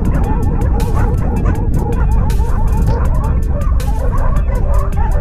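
Several dogs barking rapidly and continuously while attacking a wolf, loud, close and chaotic, with yips and whimpers mixed into the dense barking.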